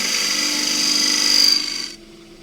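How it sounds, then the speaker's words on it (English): A 3/8 spindle gouge cuts into a spinning wooden pagoda box on a lathe, giving a close, steady scraping hiss that builds slightly louder before stopping abruptly after about two seconds. "This is a 3/8 spindle gouge."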